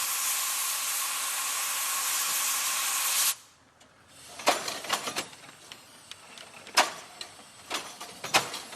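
Steam hissing loudly and steadily from a wood-fired steam fardier replica, then cutting off abruptly, followed by a series of sharp, irregular clacks and mechanical knocks as the machine gets underway.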